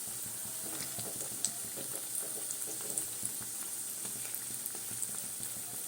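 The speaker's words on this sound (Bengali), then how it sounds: "আর এই পকোড়াগুলো একটু এইভাবে ডুবো তেলে করতে হয়" Drumstick flower fritters (pakoras) deep-frying in a pot of oil, giving a steady, faint hiss with scattered light crackles and pops, continuous throughout and heard alone.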